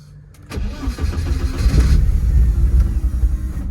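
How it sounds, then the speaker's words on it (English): A BMW 320i E21 with a turbocharged M42 engine swap, running E85 fuel, cranks briefly and catches, then settles into a loud, steady rumble close by. "we're going to go ahead and start the car up"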